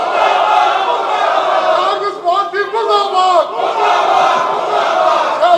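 Legislators in the Punjab assembly shout slogans together in a loud uproar during a session. The chant-like shouting is dense and continuous, with a brief rhythmic chanted stretch in the middle.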